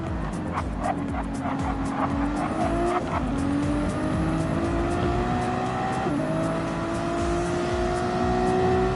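Race car in Barcelona practice, running fresh, cold tires, sliding and understeering through a medium-to-low-speed corner, with a loud steady engine drone and rising-falling pitch sweeps from tire squeal and gear changes across the whole stretch, no talk.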